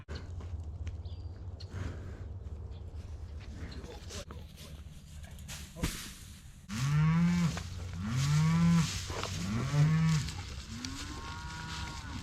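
Several hungry cows awaiting hay moo in long, deep calls one after another, fairly close, over a low rumble and scattered farmyard noise.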